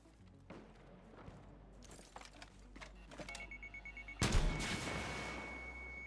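Sniper rifle shot in the video game Battlefield 6: one sharp, loud report with a long rolling tail follows a run of quieter clicks and taps, and a faint tone lingers afterward.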